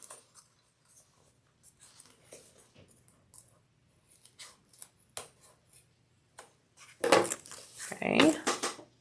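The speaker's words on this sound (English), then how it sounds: "I am now going to trim this tape off here and make this even." Scissors trim tape from the edge of a sewn fabric baby sling, with soft scattered handling clicks that build into a few louder, close snips near the end.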